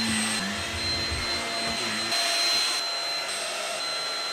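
A vacuum cleaner runs steadily while an art studio is cleaned, a loud continuous whirring drone with a shift in pitch partway through as the nozzle moves, and no voices are heard.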